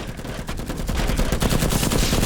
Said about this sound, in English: he just kept shooting through the box